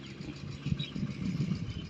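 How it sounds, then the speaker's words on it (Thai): A tractor engine runs steadily with a low, chugging hum, fairly faint and somewhat distant. "รถไถดึงน้ำเหมืองลงมาอีก"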